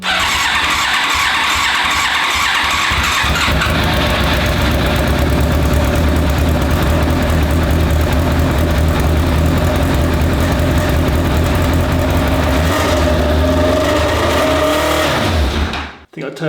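A Yamaha YZF1000R Thunderace motorcycle engine idles high after an idle screw adjustment, a loud, steady close-up drone with a busy mechanical rattle, running unbroken until it cuts off abruptly at the very end.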